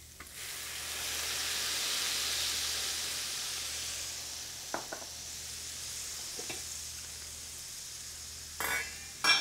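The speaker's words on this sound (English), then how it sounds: "So we'll saute the shallots. I'm going to deglaze with a little bit of the Madeira." Shallots sautéing in a hot pan, then deglazed with Madeira for a beef sauce, a broad steady hiss and sizzle swelling and fading, with a few sharp utensil taps near the end.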